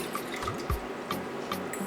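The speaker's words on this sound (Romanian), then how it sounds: "Într-o cratiță am să pun apa" Water is poured into a saucepan for a Sacher cake syrup, producing a short run of soft drips and splashes at close range with no talking.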